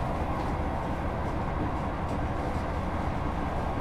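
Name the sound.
HST high speed train passing in Train Sim World 3 video game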